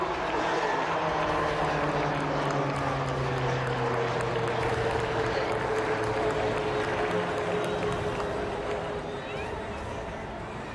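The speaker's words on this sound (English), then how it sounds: "the HTT-40 aircraft for the first time ever in an aerial display" An HTT-40 trainer aircraft performs at an air force day aerial display over a beach, its propeller drone loud and continuous with slowly shifting pitch over a dense crowd and wind.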